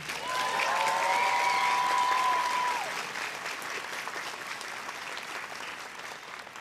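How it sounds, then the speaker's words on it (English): An audience at a university commencement ceremony applauds graduates, a dense wash of clapping with a few cheers that swells at first, then gradually thins out and fades. "Let's applaud these graduates one more time."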